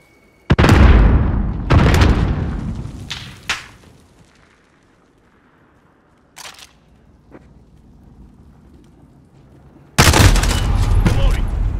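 A grenade detonates in Call of Duty Modern Warfare 3, with heavy booming blasts and gunshots separated by quieter gaps, then another loud burst of fire near the end; a voice briefly calls out between shots.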